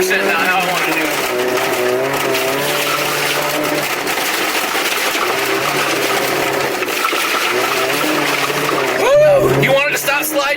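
An AW11 Toyota MR2 slides across a bumpy rallycross course with a loud, continuous engine drone that keeps changing pitch, tires scrubbing underneath and a sharp rising rev near the end. Its occupants are heard over it.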